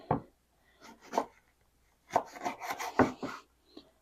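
A knife cuts lemon slices on a board in a few soft, separate chops and slicing strokes, close and fairly quiet, with gaps between cuts.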